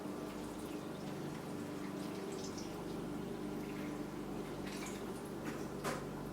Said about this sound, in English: And I'm gonna add some of my Berkey filtered water.